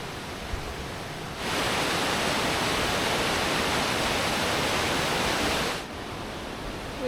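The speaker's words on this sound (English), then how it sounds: "So we're trying to find the top of the waterfall" A waterfall in the Argentina–Chile Andes roars as a broad, steady rushing wash that swells louder for several seconds and then falls back to a softer background hiss, heard alone without voices.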